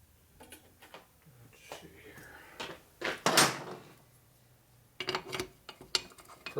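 Rummaging through a metal tool drawer for a bigger punch while rebuilding a 1965 Harley-Davidson Panhead 4-speed transmission: irregular clinks, rattles and scraping knocks of tools shifting about, with a brief loud clatter partway through.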